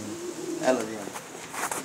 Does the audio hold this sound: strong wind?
no